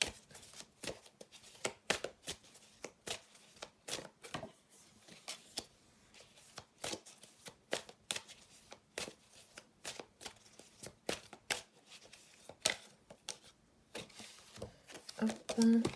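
Tarot cards are handled and laid out in a steady stream of soft, close slaps and flicks, quiet and dense, with a person talking intermittently over them.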